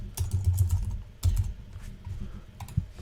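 Rapid typing on a computer keyboard while a membership name is entered on a sports management platform, close and clear, with bursts of keystrokes separated by short pauses and no voices.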